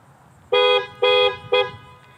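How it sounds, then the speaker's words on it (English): Horn of a 2019 Mazda CX-5 Signature AWD blares three times in quick succession, each short blast loud, close and evenly spaced, with quiet background between. "Now this vehicle has a very, very loud horn."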